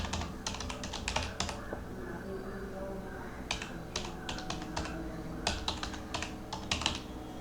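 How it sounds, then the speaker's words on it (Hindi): Typing on a computer keyboard while entering a license number into billing software, heard as bursts of quick clicky keystrokes separated by short pauses over a steady low room hum. "वो लाइसेंस नंबर टाइप करने के बाद, जैसे मैं यहाँ पे टाइप कर रहा हूँ"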